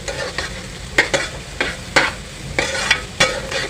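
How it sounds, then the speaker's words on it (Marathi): Ginger-garlic paste frying over high heat in a pan for pav bhaji, a continuous sizzle broken by several sharp scraping stirs of a spatula at irregular intervals. "गॅस फास्ट करा आलं लसूणच्या पेस्टने छान सुगंध दरवळत आहे"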